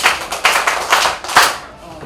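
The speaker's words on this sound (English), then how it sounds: "Let's clap for her." A small classroom group claps for a pupil, with several loud, uneven bursts of hand claps close by that fade out toward the end.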